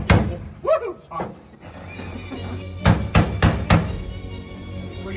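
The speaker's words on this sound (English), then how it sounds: "Heat it up as hot as hell and I'll hammer it down." Sharp metallic hammer strikes on hot metal ring out, a few early blows then a quick series of four evenly spaced hits, close and loud.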